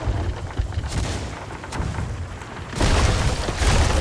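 Cannons boom repeatedly during a ship battle in the pirate game Sea of Thieves, several sharp blasts scattered over a constant roar of sea and combat noise, with a louder, denser stretch near the end.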